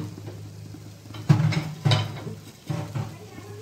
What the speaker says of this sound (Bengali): আপনাদের দেখানোর জন্য কড়াই করে চালটা ভেজে নিলাম